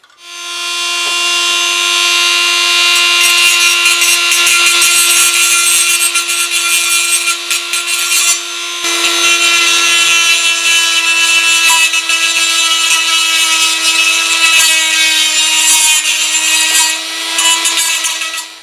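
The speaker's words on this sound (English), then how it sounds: "I'm going to switch to the Dremel and just grind off the tops here of these rivets." Dremel rotary tool grinding off rivet tops on a die-cast Dinky Toys Blaw Knox bulldozer base plate, a loud, steady high-pitched whine with shifting tone running nearly continuously, close up.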